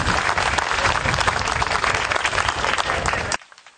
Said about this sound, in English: Can you please give the Venerable Master another big round of applause